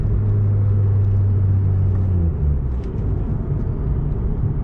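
A Mazda RX-8 with an idle problem tied to its MAF and O2 sensors idles with a steady low rumble, then the engine note drops away about halfway through as it stalls when the clutch is pushed in, leaving a duller background rumble.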